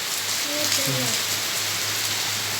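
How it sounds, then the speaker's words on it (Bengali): Heavy rain falls as a steady, even hiss, with a brief voice speaking over it near the start. "ওরে বাপরে জোরে জোরে বৃষ্টি হচ্ছে"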